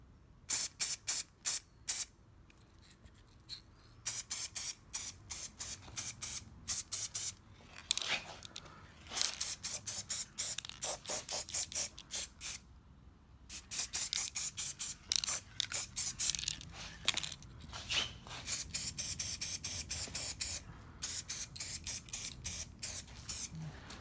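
A can of red spray paint hisses in quick repeated bursts, short presses separated by brief pauses, close and loud, coating an object for dazzle camouflage artwork.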